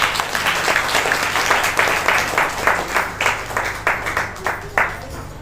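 A small church congregation claps together in a fairly even rhythm, individual hand claps distinct and close, building into a steady beat that grows slightly sparser toward the end.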